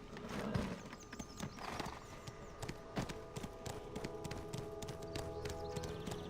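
A horse in the Black Desert video game clip-clops steadily with repeated hoof strikes over game music and ambience, with a faint whinny, moderately quiet and without talk.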